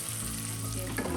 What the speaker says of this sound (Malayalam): അത് നമുക്ക് പയർ ചേർക്കാം. അതൊന്ന് ഇളക്കി കൊടുക്കാം.